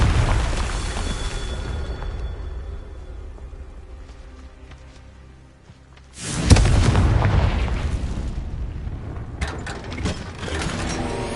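Confringo fire spell explosions in Hogwarts Legacy: a rumbling blast fades over several seconds, then a second loud booming burst with a crackling tail hits, followed by more mechanical clatter.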